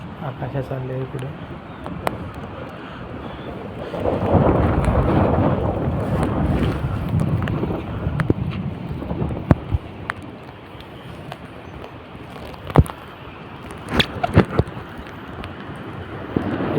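A heavy downpour falls over farm fields and flooded roads. Rain hisses steadily throughout, with rumbling thunder swelling in the middle and sharp cracks later on, and a voice speaks over it.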